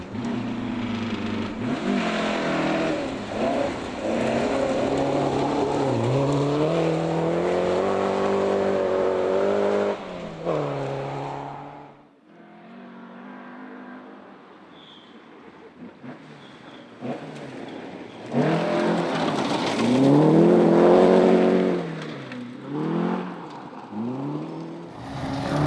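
A Talbot Sunbeam Lotus rally car running in class D4 at a historic rally roars past with loud, revving engine notes, eases off briefly midway, then surges again with hard acceleration.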